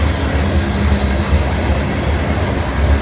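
A heavy freight train in Glendale rumbles close by as it slowly picks up speed, a dense low rolling drone with faint wheel clatter and no voices.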